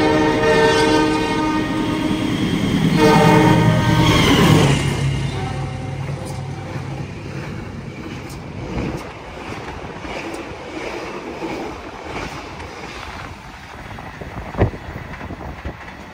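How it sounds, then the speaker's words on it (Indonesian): The Taksaka executive express train barrels through a small station at high speed, a loud near rush with a horn blast at the start, then rattling wheels and clattering cars fading as it passes. "kereta api Taksaka melintas langsung, ngebut banget"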